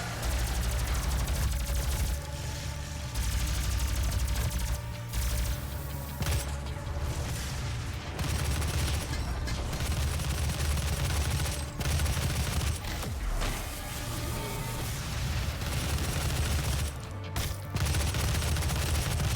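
Dense, loud gunfire from the 2016 DOOM video game: rapid bursts of shots and heavy booms pile up almost without pause, with a sustained low rumble underneath.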